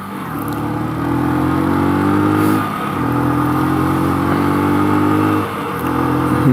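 A motorcycle engine drones steadily close by as the rider pulls ahead, with a throaty rising rev that dips briefly twice before climbing again.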